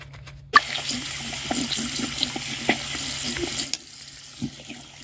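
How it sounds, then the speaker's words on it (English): Makeup brushes washed by hand under a running tap at a sink, a steady splashing water stream lasting several seconds before it cuts off, with a small clunk near the end. "I only had 4 brushes that were dirty, so I just decided to wash them all"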